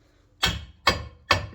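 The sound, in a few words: hammer tapping on car front end parts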